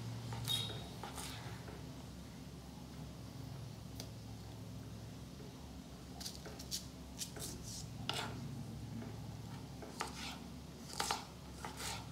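Green chillies being sliced with a kitchen knife on a board, giving a scattering of quiet, crisp cuts at irregular intervals over a low steady background hum.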